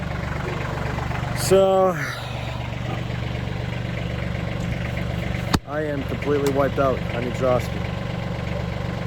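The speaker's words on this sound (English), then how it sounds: "let me shut the tractor off and see if I don't need those headlights" A tractor engine idles on a farm with a steady, low rumbling drone throughout, near and continuous, while a person talks over it and a sharp click sounds midway.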